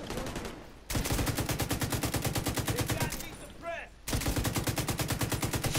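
Rapid automatic gunfire in The Division 2 video game rattles in dense sustained bursts, loud and continuous with short pauses, while a voice speaks briefly between volleys.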